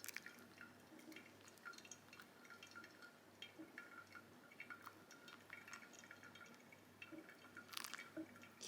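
Water drips faintly through a pour-over coffee filter, a quiet irregular trickle and patter with a few sharper drops near the end.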